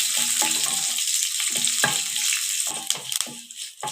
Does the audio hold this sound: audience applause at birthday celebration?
no